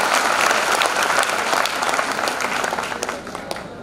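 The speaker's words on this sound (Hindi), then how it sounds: "इसके लिए जोरदार ताली बजाइए सर के लिए।" An audience at a conference breaks into loud, sustained applause, a thick wash of clapping from many hands in a hall that tapers slightly toward the end, with a voice faintly mixed in.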